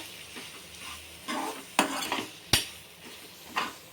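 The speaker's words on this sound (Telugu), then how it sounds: "ఇప్పుడు కలుపుకుందాం మంచిగా." Tripe curry seasoned with salt and chili powder being stirred in a pan, with a spoon scraping and clinking against metal several times over a soft background sizzle, no talk.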